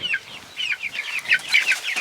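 Chickens clucking near a chicken tractor, a quick run of close, bright clucks and short calls back to back over a couple of seconds with no talking.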